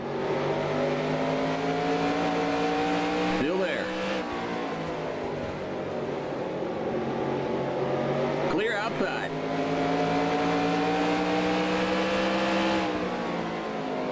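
Race truck engines from the video game NASCAR Racing 2003 at I-70 Speedway drone continuously, a steady loud roar with slowly shifting pitch as trucks run close together in a 1995 SuperTruck Series race.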